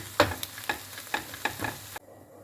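A utensil stirs and scrapes chopped red capia pepper and celery leaves with salt in a sizzling frying pan, several distinct strokes in an uneven rhythm, close up, then it stops.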